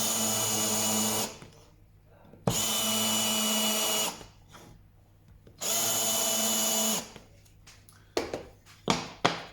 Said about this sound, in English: drill onto a piece of scrap